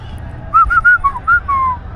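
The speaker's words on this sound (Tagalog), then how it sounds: "Ako ba sumipol?" A person whistles a short tune of about six bright, clear notes, close and loud over a faint low background hum, with no talking.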